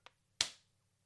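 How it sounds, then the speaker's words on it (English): A sharp, close slate clap for syncing a production shoot lands as one loud crack with a quick decaying tail, preceded by a smaller faint click, in an otherwise quiet room. "We're going to do another clap."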